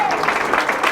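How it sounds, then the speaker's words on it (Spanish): A church congregation claps together during a sermon about the Señor de Esquipulas, a dense, steady patter of many hands lasting about a second. "fuerte ese aplauso, hermanos"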